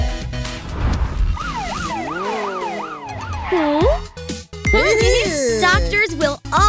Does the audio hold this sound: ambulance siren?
yes